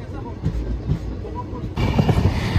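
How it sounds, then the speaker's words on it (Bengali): A passenger train bound for Howrah rumbles along its rails, heard from inside the carriage as a steady low roar with rhythmic clatter that swells louder partway through, and faint voices are mixed in. "এখন আমরা কলকাতায় ফেরার ট্রেনটায় উঠে গেছি, যেটা হাওড়া যাবে"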